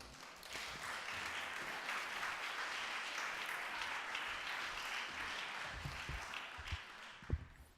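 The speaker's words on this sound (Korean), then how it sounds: "크게 박수로 환영하도록 하겠습니다" A church congregation applauds together in a broad, sustained wash of clapping that holds steady for several seconds before tapering off, with a few scattered louder claps near the end.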